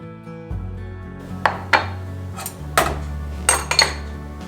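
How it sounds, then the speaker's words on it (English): Undrained boiled potatoes being mashed in a pot, heard as a series of close, distinct metallic clanks and knocks from the masher striking the pot, spaced unevenly over a few seconds, with no talk. "They're actually mashing way better than I thought they would."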